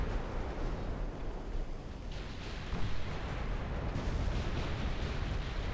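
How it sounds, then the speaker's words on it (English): Heavy 15-inch naval guns firing in the warship battle game Ultimate Admiral: Dreadnoughts: a dense, continuous roar of distant booming salvos and rumbling blasts, steady throughout with no voices. "You're taking hits from 15-inch guns."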